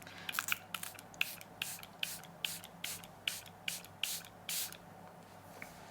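A quick series of about a dozen short, hissing bursts of Charlotte Tilbury Airbrush Flawless Setting Spray misting, close by and irregularly spaced, with no talking.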